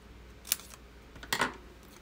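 Two quick snips of scissors cut through a paper card, close and crisp, with a short pause between the first cut and a slightly longer second one.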